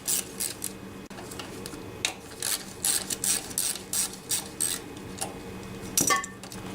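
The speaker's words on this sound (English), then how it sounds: "So I just loosened up this bolt and this bolt, and now this bracket is quite loose." Bolts are loosened on the engine bracket of a DR Trimmer TR-1 with a Kawasaki FC150V engine, with a run of quick ratcheting clicks and metallic tool clinks at close range and no talking.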